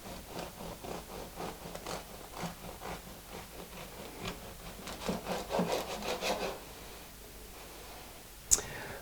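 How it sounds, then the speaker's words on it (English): A knife saws into a cooled granary bread loaf with a run of quiet, rhythmic rasping strokes and crusty scraping, close up. A sharp click follows near the end. "So now the loaf's cooled, let's cut into it."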